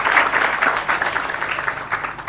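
A gathered spiritual congregation claps together, a fairly loud, close burst of many hands with a slightly rhythmic pulse that eases a little toward the end.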